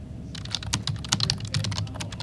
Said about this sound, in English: What be ye typing in?